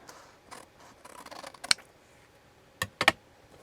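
Scissors snip paper in a quiet room, a few soft cuts followed by two or three sharper, close snips with pauses between them.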